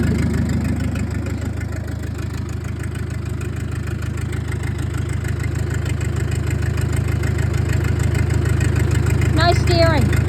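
Fendt tractor engine running at a steady idle, a loud, close, low diesel rumble throughout, with a brief faint voice near the end.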